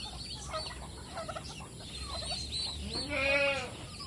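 Turkeys gobble on a small farm where chickens are also kept, with several rapid warbling calls overlapping. The loudest burst comes near the end, moderately close against a quiet outdoor background.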